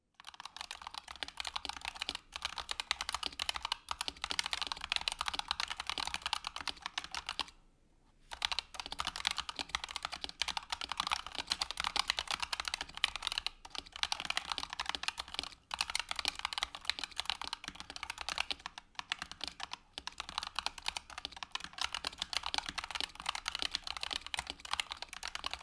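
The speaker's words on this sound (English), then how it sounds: "The bottom out is hard, thin as said, and it sounds like a gun when you're typing fast." Fast typing on a Razer mechanical keyboard with an aluminium plate: a dense, continuous clatter of hard, thin bottoming-out keystrokes, close up, with one brief pause and no talking.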